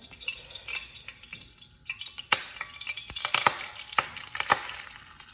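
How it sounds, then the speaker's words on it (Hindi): Dry vermicelli being roasted in a pan for sweet seviyan, with irregular scraping and stirring clicks and a light sizzle, growing busier and sharper partway through, no talking. "अब मैं सेवइयों को भून रही हूँ कि इस पे ब्राउन कलर आ जाए।"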